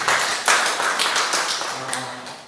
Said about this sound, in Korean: 우리 환호로 하나님께 영광을 올려드립니다